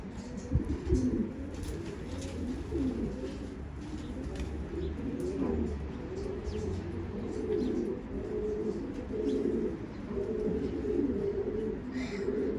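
Pigeons coo in low, rolling calls over a busy background of rustling and other birds, steady throughout and fairly close.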